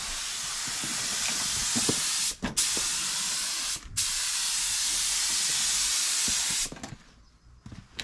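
A spray gun lays a light glue coat of paint onto a fibreglass bumper for a 1992 Nissan 300ZX Z32 twin turbo. Loud, close hissing bursts run in long passes with brief pauses between them, then the hiss stops near the end.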